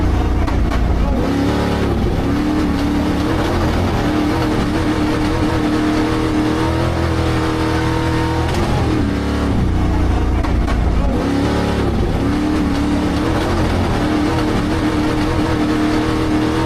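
Ferrari Luce car engine accelerating, a loud, steady sustained roar with rising and falling revs that surge twice, heard close with no talking.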